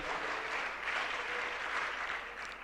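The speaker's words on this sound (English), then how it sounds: "A round of applause for her." An audience at a national public speaking competition grand finale applauds a judge, steady dense clapping that holds at an even level throughout without fading.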